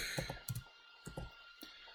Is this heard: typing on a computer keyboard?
yes